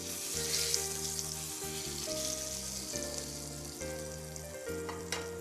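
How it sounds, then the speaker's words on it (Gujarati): Cumin seeds crackle and sizzle steadily in hot oil for a tempering, a close, continuous frying hiss with a tonal background hum running underneath. "જીરું તતડે એટલે વઘાર કરી"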